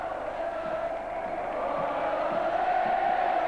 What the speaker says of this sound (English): People of all ages and from every possible vantage point have come to cheer their heroes and to say thank you